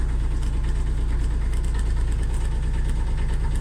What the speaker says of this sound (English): It's a fantastic engine, a Kabuta,